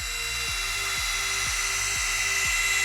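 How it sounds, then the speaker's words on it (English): A polisher removing heavy oxidation from boat gel coat whines steadily at close range, its motor tone dipping in a regular rhythm about every half second as it is worked back and forth. "Grab the bottom of this polisher and just work back and forth."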